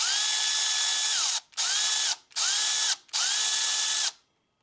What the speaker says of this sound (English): now we'll just switch to the old battery powered ratchet